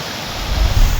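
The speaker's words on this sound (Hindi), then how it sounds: "चोटियों से ढलान की तरफ झरने फूट पड़े।" Waterfalls pour down the slopes of Anjaneri mountain near Nashik during torrential rain, making a loud, steady, dense rush of water with a heavy low roar and no voices.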